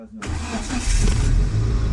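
A car engine cranks and catches, then runs with a steady low rumble, loud and close, after a brief quiet moment.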